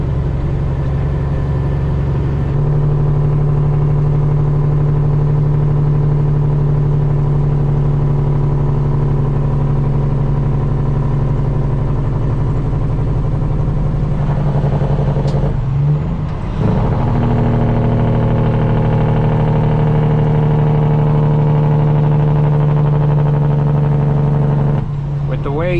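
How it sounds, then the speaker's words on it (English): A custom Peterbilt truck with straight pipes drones loudly on a two-lane road, its deep engine note holding steady under the jake brake, with shifts in pitch midway; someone talks over it. "It'll make the engine brake run a whole lot longer at the same RPMs."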